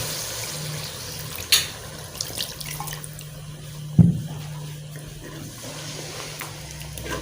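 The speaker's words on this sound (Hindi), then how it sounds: "जितना का हमें पानी चाहिए वो डाल देते हैं।" Water poured into a pot of dhaba-style mutton korma goat curry, a soft liquid splash and trickle with a couple of sharper clanks from the pot.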